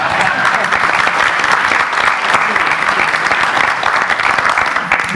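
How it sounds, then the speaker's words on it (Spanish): Sustained applause for a moderator from a sizable seminar audience, a thick even wash of clapping with no pauses. "Con un aplauso para el moderador"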